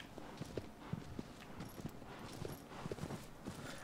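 Horse hooves clip-clopping in the video game Shadow of the Colossus, a quiet, steady walking rhythm of soft hoofbeats at close range.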